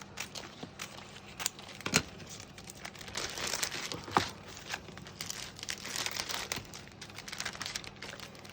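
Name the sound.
removing double-sided tape from a fake sweet craft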